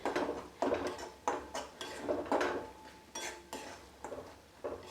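A spatula works through spinach and gram flour in a pan, making repeated scraping and clinking strokes against the metal in an uneven rhythm. The sound is close and moderately loud, with no talk.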